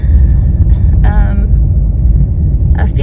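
A car drives along a road, its steady low rumble filling the interior from close by, with brief higher tonal sounds breaking through at moments.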